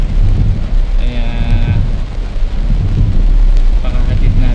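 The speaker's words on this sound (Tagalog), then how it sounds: "medyo malaki-laki ang butil ng ulan dito ngayon" Heavy rain with large drops pours down in Marikina, a steady loud broadband wash with low rumble, likely heard from inside a moving vehicle; faint tonal sounds drift briefly over it.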